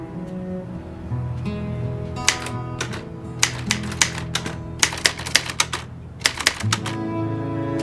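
Typewriter-like key strikes in a typing tutor program come in quick irregular bursts of sharp clicks over a sustained musical drone, loud and close.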